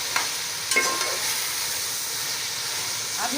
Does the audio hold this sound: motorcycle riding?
no